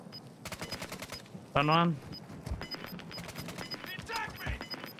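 Rapid RPK light machine gun fire in Warzone 2.0, a steady stream of close shots rattling through the clip, with a loud burst of game voice chatter breaking in partway and talk over the gunfire.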